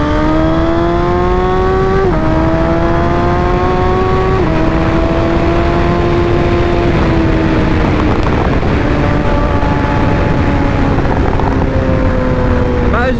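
A 1000cc liter-class motorcycle engine screams at speed, loud and close, its whining pitch dipping briefly at each gear change and then holding steady under constant wind rush.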